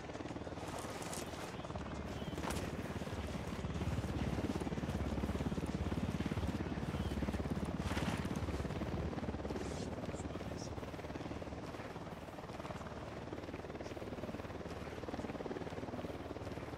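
Helicopter in the video game Ghost Recon Wildlands, a steady whirring rotor roar filling the whole stretch at moderate loudness, with scattered sharp clicks and thumps and voices speaking over it at times.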